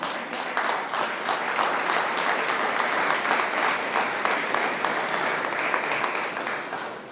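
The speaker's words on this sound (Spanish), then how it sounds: "Dale un aplauso al Señor." A church congregation applauds continuously, a dense steady roar of clapping that holds throughout before tapering slightly at the end.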